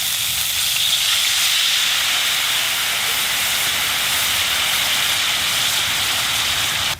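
A mirin, soy and sake teriyaki sauce simmers over an open fire, giving a loud, steady steaming hiss that holds constant throughout before cutting off abruptly at the end.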